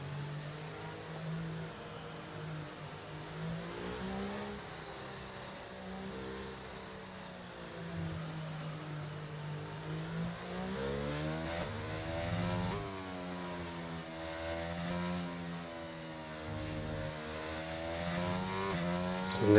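Racing cars from the F1 22 game in a pack behind the safety car at Hungary, a steady engine drone with rising and falling revs that carries continuously throughout.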